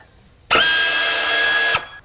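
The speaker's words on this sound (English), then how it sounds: "I'm gonna hook it to an air ratchet and see can I get that bottom one off" An air ratchet spins on a thermostat housing bolt of a Saturn in one loud, steady whirring burst of just over a second, starting abruptly and cutting off sharply.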